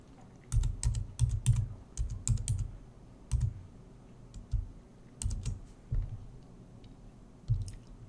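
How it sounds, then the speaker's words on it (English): Someone types a password on a computer keyboard: close, crisp bursts of keystrokes in short clusters separated by brief pauses, with no talking. "Click again in the second field because you need to type that password again."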